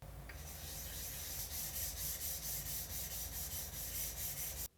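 A nagura stone rubbed across a Japanese whetstone to raise a slurry for sharpening Japanese knives, giving a steady, continuous gritty scrubbing in even back-and-forth strokes, close and fairly quiet, stopping abruptly at the end.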